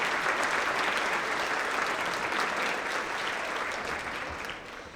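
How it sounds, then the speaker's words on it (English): Audience at a student awards ceremony applauding in sustained, dense clapping that fades slightly at the close. "Let's give yourselves a round of applause for that."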